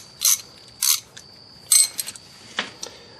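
A standard wrench ratchets and clicks while loosening rear brake bolts on a 2001 Lexus IS300 during a rear brake overhaul, with a few sharp metallic bursts spaced apart, close up and alone.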